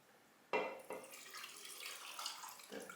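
Liquid poured over brine with garlic in a jar, a close, steady splashing stream starting abruptly and running continuously without talk.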